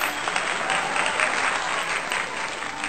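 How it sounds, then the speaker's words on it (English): Steady crowd applause played as a celebratory sound effect in the strategy game Conquest of Elysium 4, a dense, even wash of many clapping hands lasting throughout at constant loudness. "this event that we were able to defeat another faction is merits some applause, so here it is."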